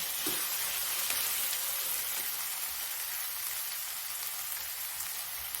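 Tomatoes dropped into a hot pan for a cauliflower and soya chunk curry, giving a steady, even hiss of frying that runs the whole time at moderate level with no voices.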